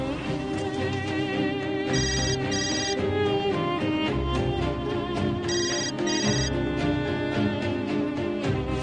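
A loud electronic phone ringtone plays continuously, a bright repeating melody with chiming tones that cycles over and over without any talking.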